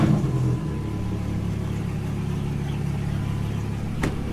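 A car engine revs up from idle to warm the motor, a steady, close mid-pitched drone with an initial surge and a brief louder blip near the end, with no talking.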